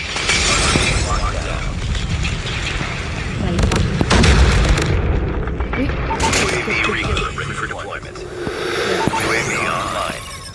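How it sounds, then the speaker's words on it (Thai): Grenade blasts and gunfire in a Call of Duty match, with sharp explosive bursts and crackling shots repeating throughout under a player's excited talk. "โดนระเบิดตายห่าเลย"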